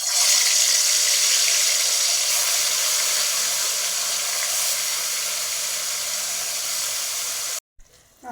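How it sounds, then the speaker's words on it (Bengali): Fish sizzles steadily in hot mustard oil in a kadai, a loud continuous hissing fry that holds evenly for several seconds before cutting out abruptly near the end. "তেল গরম হয়ে গেছে, মাছটা ভেজে নেব।"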